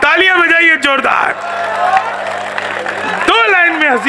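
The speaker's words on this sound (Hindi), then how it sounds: "तालियां बजाइए जोरदार" Audience applause and crowd noise at a Hindi comedy poetry gathering (hasya kavi sammelan), a dense burst of clapping filling the middle of the clip, with a voice talking loudly before and after it.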